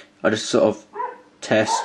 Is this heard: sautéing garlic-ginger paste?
no